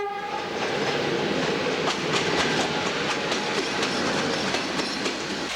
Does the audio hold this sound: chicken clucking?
no